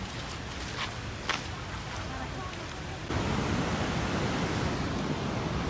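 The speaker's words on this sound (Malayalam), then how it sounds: "അതിരപ്പള്ളി വെള്ളച്ചാട്ടത്തിൻ്റെ ടോപ്പ് സാധനം" Rushing water at the top of Athirappilly waterfall in Kerala, a steady broadband roar that grows louder partway through, continuous and close with no voices.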